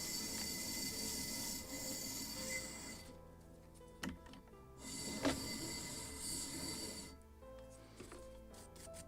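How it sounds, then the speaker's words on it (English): Sandpaper rubbing against a small wooden knee for a model of the 1776 gunboat Philadelphia, a steady close rasping broken by brief pauses and a few sharp taps. "More to sand to shape it."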